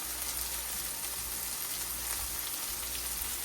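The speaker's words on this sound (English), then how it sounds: "these are going to be sauteing fresh peppers because I like it spicy" Fresh peppers sauteing in a pan give off a steady, even sizzle with a faint crackle, holding at a moderate level throughout without any talking.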